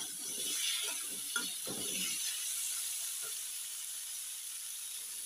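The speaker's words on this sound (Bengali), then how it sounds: "ফুলকপি আর আলু একসঙ্গে কষা হচ্ছে" Cauliflower and potato stir-fried together in a pan give off a steady high sizzle, with a run of scraping stirs early on and one more a little later.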